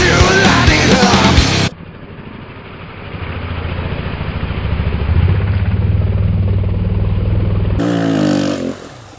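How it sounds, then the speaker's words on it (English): A dirt bike engine drones steadily while riding, its pitch rising and falling with throttle under wind buffeting, with loud bursts of clatter at the start and end. "It's really hard to motovlog while you're riding a dirt bike"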